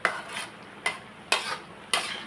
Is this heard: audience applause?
no